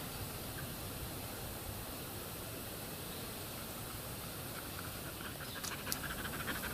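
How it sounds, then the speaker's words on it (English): A neighbor's dog, a female, pants steadily and close by at a rural camp, a continuous breathy rasp with faint brief higher sounds near the end and no talking. "my neighbor's dog, she don't want to leave me alone"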